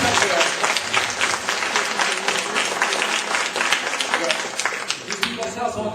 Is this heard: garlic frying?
no